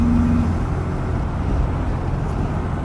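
A 1962 Porsche 356 engine cruising at about 80 km/h and 2500 rpm in fourth gear, a steady low droning rumble with road noise that holds constant throughout, close and fairly loud, with no talking.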